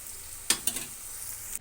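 Bitter gourd fries in hot oil for a curry, a steady bright sizzle close by, broken by a couple of quick stirring scrapes before it cuts off.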